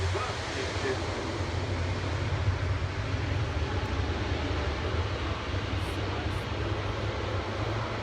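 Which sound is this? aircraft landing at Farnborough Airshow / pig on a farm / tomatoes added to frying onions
aircraft landing at Farnborough Airshow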